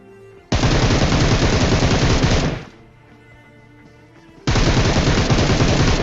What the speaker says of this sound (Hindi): अब यहाँ पे जो एक ही चीज़ कर सकता था वो था स्मोक के अंदर अंधाधुंध फायर।